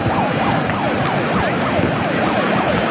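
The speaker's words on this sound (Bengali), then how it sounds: "সাইরেন বাজানো হচ্ছে।" A warning siren wails at a beach in Cox's Bazar as the tide rises, its rising and falling tone repeating steadily over loud wind and surf, with no talk.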